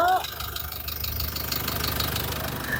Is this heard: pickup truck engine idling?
yes